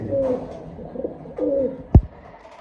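A black racer pigeon coos close by in two low, rolling phrases, followed by a single sharp thump near the end.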